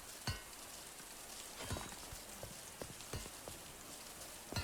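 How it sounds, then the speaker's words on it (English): Heavy rain in a downpour, falling steadily across a surface with scattered louder drips and splashes, and no voices. "What a downpour."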